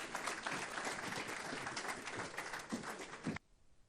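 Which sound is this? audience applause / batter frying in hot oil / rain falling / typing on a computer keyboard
audience applause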